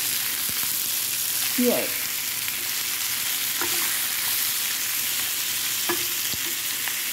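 Salmon fillet frying in a pan with onions and tomatoes, a steady bright sizzle with a few scrapes of turning, and a brief spoken word over it.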